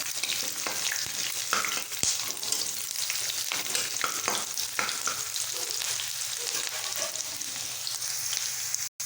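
Bay leaf and onions fry in hot oil, a loud, close crackling sizzle with frequent stirring scrapes and clatters running throughout, no speech.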